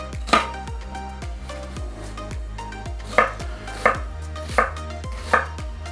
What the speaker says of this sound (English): These just needs to be diced up